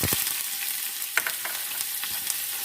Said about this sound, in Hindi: ऑयल में हम प्याज को फ्राई कर लेते हैं।